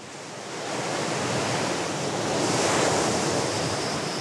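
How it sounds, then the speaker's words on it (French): Big Pacific Ocean waves crash on a Hawaii beach in winter, a steady, loud, roaring wash of surf with wind noise swelling slightly toward the middle, and no voices. "Quand il y a de grosses vagues, ça fait le bruit d'une locomotive qui passe dans la maison."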